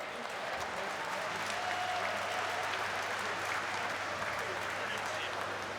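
A large crowd applauds steadily and continuously for a swimmer at a national open swimming championship, with the noise of the indoor pool venue in the background.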